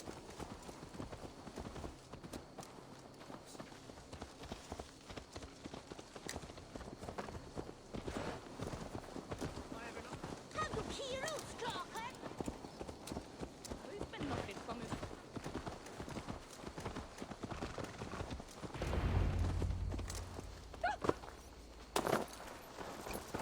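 Horse hooves in the video game Assassin's Creed Valhalla clip-clop at a steady walking pace through the whole stretch, with voices murmuring and a low rumble swelling near the end.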